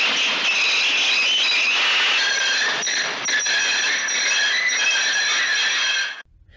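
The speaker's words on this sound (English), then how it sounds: "Hearing the thud, the driver stopped the train." A loud, sustained high-pitched squeal of train wheels braking, steady for several seconds before cutting off abruptly.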